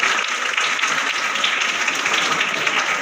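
Steady, dense applause from a crowd honoring Urdu-medium SSLC toppers at a felicitation ceremony, many hands clapping continuously and loudly close by, with no talking.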